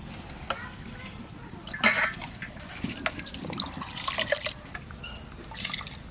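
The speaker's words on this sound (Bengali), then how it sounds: "চাল ধুয়ে নিচ্ছি আর জলটা মেপে দেবো" Rice being washed in water by hand before cooking, with sloshing, dripping and splashing that swell and fade across several seconds, close by and without talk.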